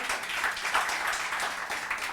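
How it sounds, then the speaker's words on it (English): A festival audience applauds a speaker and moderator at a literature and art event, steady, even clapping from many hands that sounds somewhat distant and holds at a moderate level throughout. "I would request you all to give a huge round of applause to a speaker and moderator"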